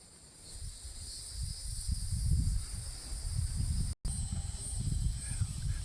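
Crickets chirp outdoors at an evening roadside, a steady, bright, layered trill that runs throughout, over a low rumble of wind and background noise, with no talking.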